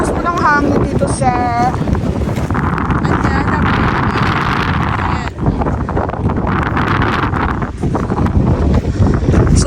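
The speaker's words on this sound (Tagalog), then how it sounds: "Ang lakas po ng hangin dito" Strong, steady wind buffets the microphone at an outdoor construction site, an unfinished house extension still awaiting its roofing, with loud continuous roaring gusts throughout and a few brief voices audible early on.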